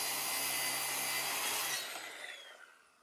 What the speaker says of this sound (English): I use my track saw to cut the top to its final size